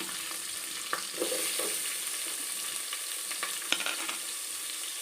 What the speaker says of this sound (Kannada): ಓಕೆ ನಾನು ಇಲ್ಲಿ ಈರುಳ್ಳಿ ಹಾಕ್ಕೊಂಡಿದ್ದೀನಿ